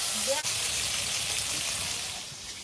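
A piece of katla fish frying in hot oil salted to keep it from sticking, a loud steady sizzle that fades a little toward the end, with a brief voice sound near the start.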